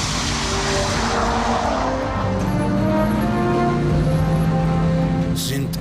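Race cars on a racetrack, engines roaring loudly and continuously with shifting pitch as they sweep through, tires squealing and skidding, a dense close mix of several cars under a sharp burst near the end.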